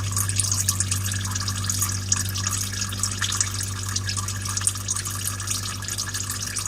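Oil drains from the rear housing of a Kubota Grand L 3560 tractor with one plug removed, a continuous trickling, splattering stream under a steady low hum that stays even throughout.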